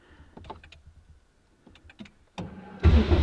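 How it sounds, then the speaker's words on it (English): A car engine cranks and fires up at the end after a few faint clicks and taps inside the cabin, the start arriving as a sudden loud burst that keeps running. "If we're sitting like this and we want to go fire up the car, it might work."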